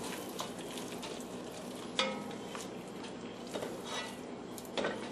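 A spoon stirs thick wild rice soup in a pot with soft scraping and occasional clinks against the pot's side, fairly quiet and continuous with a few sharper knocks.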